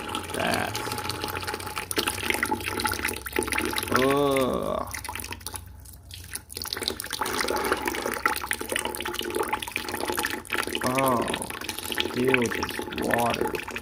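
Water draining and dripping out of a 1970 Dodge Charger 440 engine during a teardown, a steady trickle with scattered drips, and brief voice sounds over it.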